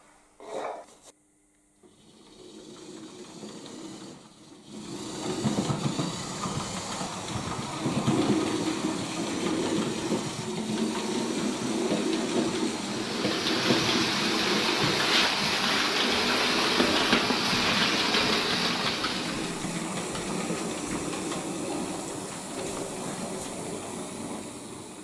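A small model steam locomotive, a Fleischmann BR 50, rumbles and clatters as it moves slowly back and forth shunting a baggage car, with a burst of hissing steam midway. No voices.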